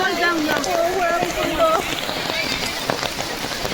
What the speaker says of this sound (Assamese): ইমান দূৰ আহি ইয়াৰ অৱস্থা চাওকচোন, ইমান বৰষুণ।